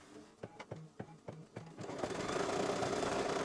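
An embroidery machine sews an applique stem placement line, starting with a series of distinct knocking stitch beats that quickly give way to a steady, fast mechanical whirr, close by with no speech.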